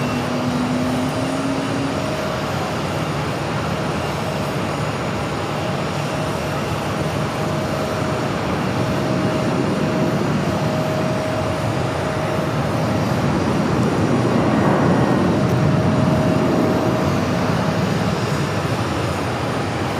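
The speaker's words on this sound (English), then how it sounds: "I love the sound of the APU starting up." A parked airliner's auxiliary power unit spooling up at Phoenix airport, a loud steady roar and turbine whine that swells gradually toward the end.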